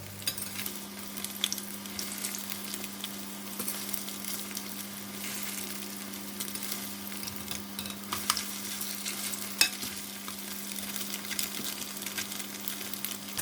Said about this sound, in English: I'm going to fry it until crispy